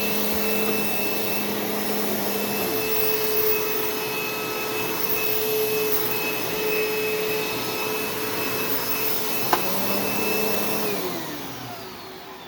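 Dirt Devil Swivel Glide upright vacuum cleaner running continuously, a loud close whining motor hum with shifting tones as it moves, alone without speech.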